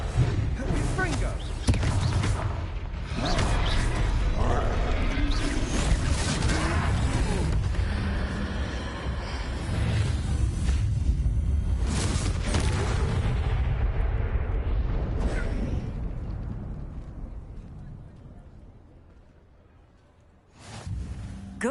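Fire spell blasts cast in the Hogwarts Legacy video game, a long stretch of loud, rumbling explosions and booms that gradually fade before one last burst at the end.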